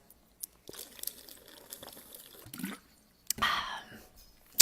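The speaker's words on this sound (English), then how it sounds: "Sorry, I got to have a drink." A person drinking water: close, quiet swallows and small wet mouth sounds with a crinkle of the container, ending in a louder gulp and exhale.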